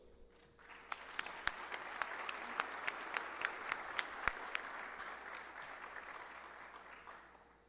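Audience applause welcoming a speaker at a customer service talk, a steady wash of clapping with a few sharp individual claps standing out, swelling over the first second and holding before tapering at the end.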